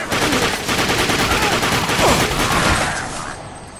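Sustained gunfire in The Darkness 2 shooter game, a dense loud rattle of rapid shots that continues for several seconds before easing off slightly.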